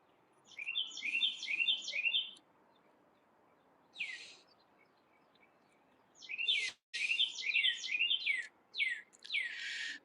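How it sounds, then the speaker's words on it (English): Bright, rapid bird chirps in repeated bursts with short gaps, fairly clear against a quiet background. "oh yeah, the birds are very enchanting."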